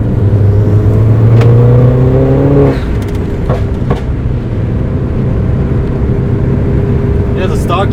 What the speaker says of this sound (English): It has a stock JCW exhaust.